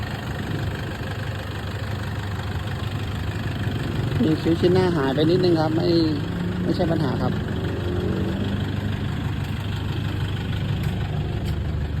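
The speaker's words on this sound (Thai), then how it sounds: "เครื่องยนต์เดินเรียบ" A 2012 Toyota Vigo Champ 2.5 pickup engine idles steadily throughout, a low continuous hum, while someone talks over it in the middle.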